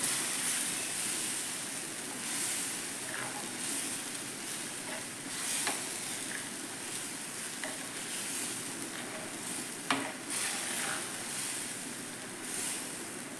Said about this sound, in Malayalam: നല്ലപോലെ ഒന്ന് തിളച്ച് വരട്ടെ